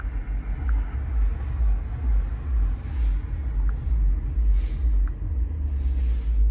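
A Jeep runs steadily during a rear differential initialization for codes C2220 and C1490, its engine a continuous low rumble with slight swells and a few faint clicks, close by, with no talking.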